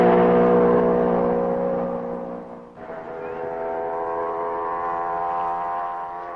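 1955 Formula 1 racing cars at the Belgian Grand Prix, an engine note droning and shifting in pitch as a car passes, dipping briefly mid-way before swelling again at a moderate distance.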